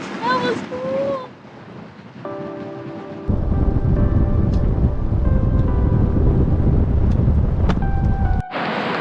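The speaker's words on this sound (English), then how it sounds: "I can already hear the water. This is a waterfall." A loud waterfall roars at a scenic viewing spot, a dense steady rush that rises partway through and holds for several seconds under faint tonal hums. A voice talks briefly before it, and another voice cuts in right after it stops.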